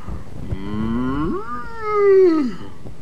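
A large cow gives one long, loud moo that rises and then falls over about two seconds, clear and close with nothing else around it.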